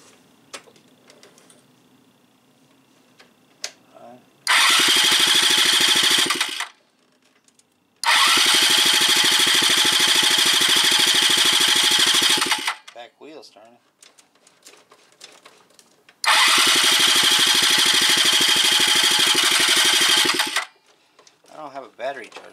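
A 1986 Yamaha Riva scooter with a fuel delivery problem is kick-started, and its engine bursts into three loud, close runs of several seconds each. Each run cuts out abruptly, with quiet gaps between them.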